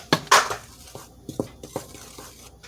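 Curry powder and turmeric being mixed into dough for Jamaican beef patties, a series of sharp clinks and dull knocks of a utensil against a bowl at an uneven rhythm, close and fairly quiet.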